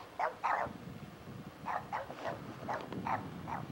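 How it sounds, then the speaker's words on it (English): A dog barks several times in short bursts, pairs and singles spread across the clip, at moderate distance over a quiet background. "It's the dog that says bark."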